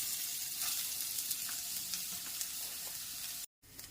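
Grated carrot sautés in ghee in a pan with a steady, soft sizzle and occasional light crackles, close and alone, broken by one brief silent gap near the end.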